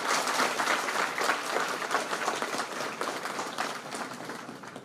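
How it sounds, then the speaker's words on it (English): Applause from the audience at an MBA orientation at NMIMS University in Hyderabad, with dense, steady clapping that holds for the whole stretch and slowly tapers toward the end. "May I have a big applause for everyone"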